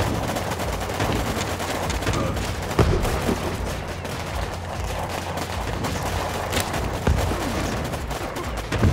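Dense, continuous gunfire from the video game Warpips, with rapid overlapping shots and machine-gun bursts forming a steady battle din, occasional louder cracks, and no voices.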